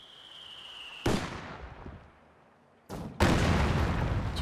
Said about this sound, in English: I also want to show you guys the delayed fuse barrage against a bunker